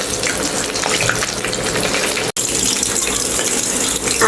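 Hilsa fish frying in plenty of oil hiss with a loud, dense, continuous sizzle close by, broken only by one momentary dropout partway through, with no voices over it.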